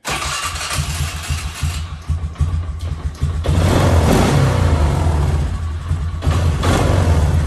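A 2006 Polaris Sportsman 500 ATV cranks over, catches and settles into a loud, steady idle close by, its low engine rumble running continuously with no speech.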